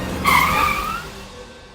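A car brakes hard and skids to a stop, its tyres squealing loudly for about a second before the screech fades out, close by with no voices.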